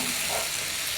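Tomato masala for an egg pepper fry is sautéed in a pan, giving a brief, steady close sizzle with soft stirring and a small clink at the end.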